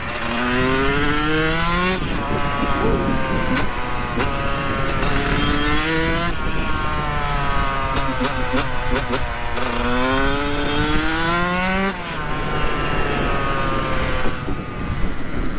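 A Yamaha YZ125 two-stroke dirt bike rides along a mountain trail, its engine revving loudly and shifting pitch up and down with repeated gear changes and throttle blips, close to the recorder throughout.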